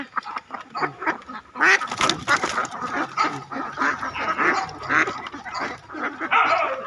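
A dense, busy chorus of many laying ducks quacking at once in a field, loud and close, with overlapping calls continuing without pause.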